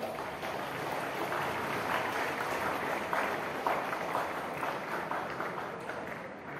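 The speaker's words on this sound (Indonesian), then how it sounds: "Tepuk tangan untuk teman-temanmu" Applause for students at SMA Negeri 4 Surakarta, a steady dense wash of many hands clapping together, loud and sustained without pause, with no voices rising above it.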